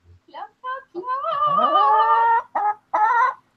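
A pet chicken clucking on command, giving a few short clucks, then a drawn-out, sung-like call and more clucks, close and loud with no talking over it.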